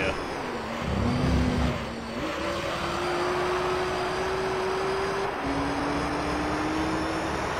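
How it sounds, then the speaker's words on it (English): Toyota Supra engine note from Gran Turismo 3, a steady revving drone with rising pitch shifts as the car spins off into a gravel trap, continuous and moderately loud throughout. "the Supra has just spun off into the gravel trap"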